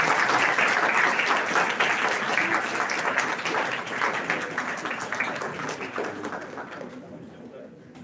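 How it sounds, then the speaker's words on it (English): Audience applause at a formal lecture function: loud, dense clapping from a crowd opens the clip and gradually thins and fades toward the end, with murmuring voices faintly underneath. "Huge round of applause."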